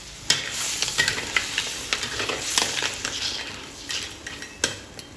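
Sea crab being stir-fried with black pepper in a pan, sizzling steadily throughout with repeated scrapes and clinks of a utensil against the pan, close and moderately loud.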